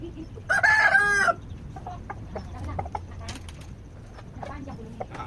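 A free-range kampung rooster lets out one loud, drawn-out crow near the start, followed by scattered clucks and soft calls from the flock in a quiet morning yard.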